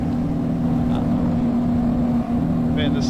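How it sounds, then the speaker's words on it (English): A loud car engine in the video game Arma 3 drones at a steady, low, constant pitch throughout, close and dominant, with faint chirps near the end. "Man, this car is loud."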